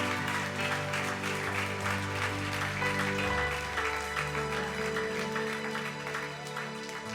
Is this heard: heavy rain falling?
no